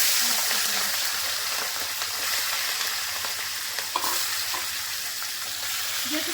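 Large prawns hiss and sputter in hot white cooking oil in a kadai, a dense continuous sizzle with a brief splash-like pop midway and occasional utensil scrapes, no talk.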